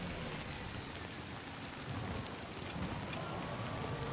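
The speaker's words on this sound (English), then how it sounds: "kind of thought that might have been like thunder" Steady rain hisses in the video game Death Stranding 2, a constant, even wash of falling water with a faint low rumble that may be distant thunder, and no voices.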